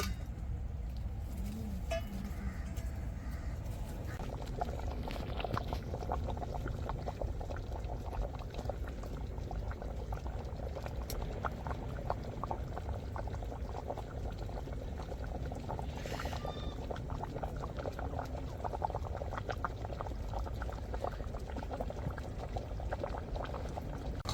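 Chicken curry boiling on a stove under a plate lid, a steady close bubbling and gurgling that stays even and dense throughout, with occasional faint clinks and no talking.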